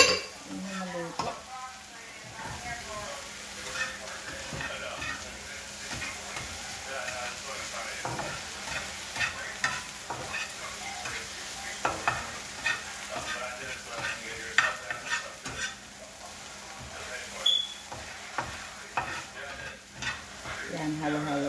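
Spinach stirred and frying in a pan, a steady close sizzle broken by scraping stirs and light clinks of the utensil against the pan.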